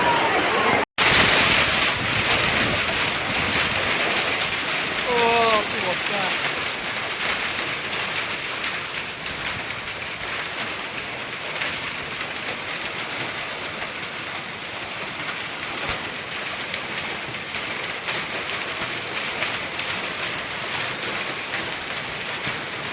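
Heavy rain with a storm and hail falls in an Odisha village, a steady broad roar of downpour throughout, with a sharp knock near the start and a brief voice in the background.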